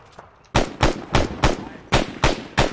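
An airsoft gun fires during an outdoor game, sounding as seven sharp, loud pops spaced roughly evenly after a brief quiet start.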